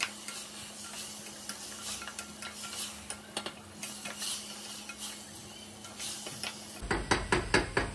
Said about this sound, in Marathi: पावटा आपल्याला 2 ते 3 मिनिटे परतून घ्यायचं आहे।